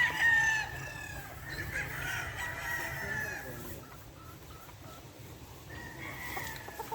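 A Boston Black gamefowl rooster crows at a game farm, its loud call ringing out near the start and again later, with other fowl calling and clucking faintly around it.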